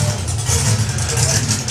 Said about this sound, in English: Sound of a supercharged engine.